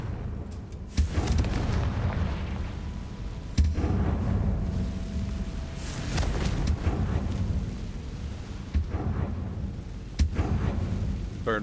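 Fiery Confringo spell explosions in the game Hogwarts Legacy, a rumbling, crackling stream of blasts with several sharp bursts spaced across the span, heavy booming low end, loud and continuous.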